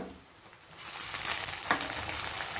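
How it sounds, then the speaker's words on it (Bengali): Chopped onion and garlic fry in a pan for a goat-head mixed lentil dal, giving a steady close sizzle that swells after the first second and stays loud, with no talking. "পেঁয়াজ রসুনটা একটু লাল লাল করে ভাজা হয়ে গেছে এবার এতে আমি দিয়ে দেবো আদা রসুন বাটা"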